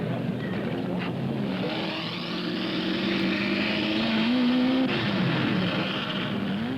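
Racing cars at the 1967 BOAC 500 at Brands Hatch drone steadily through the pits and circuit, a continuous rising and falling engine roar at moderate distance with no talk.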